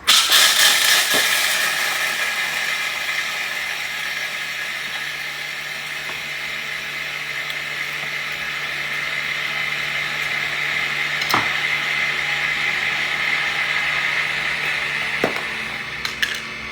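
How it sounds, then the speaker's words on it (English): A food processor whirs loudly and continuously, chopping peanuts with a steady grinding roar that eases slightly toward the end. "we're chopping up peanuts"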